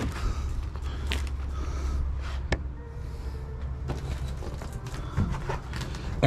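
Roll-up tonneau cover for a 2009-2023 Ram 1500 with a 5.7-foot bed, unrolling along the bed rails with the Velcro catching as it goes: a continuous close rustling and creaking with a few sharp clicks, and no talking.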